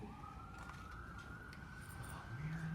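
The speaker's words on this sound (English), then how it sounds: "Let the sirens go past us real quick." A wailing siren drones steadily in the background, muffled and somewhat distant, over a low rumble of afternoon traffic in Los Angeles.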